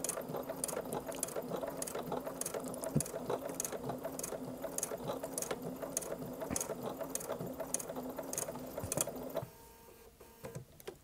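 A sewing machine stitching over thick denim seams gives a close, steady run of rhythmic mechanical clicks and ticks for most of the stretch. It then drops to a quieter hum near the end.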